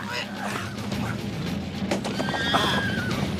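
A horse neighs loudly and close, its whinny rising over a rumbling, busy background with hoof clatter.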